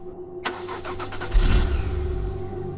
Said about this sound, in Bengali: রফিক গাড়ি স্টার্ট দিল।